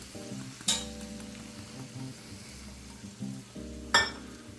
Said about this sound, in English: Wonderful, wonderful sizzle.